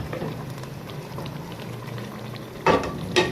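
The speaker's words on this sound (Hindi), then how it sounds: "अब मैं जो पालक है इसमें ऐड करूँगी और इसको मसाले में चंद सेकंड्स के लिए भूनूंगी" Fresh spinach sautés in a simmering chicken masala gravy: a steady, close bubbling sizzle, then two louder scraping bursts as the pan is stirred, with no talking.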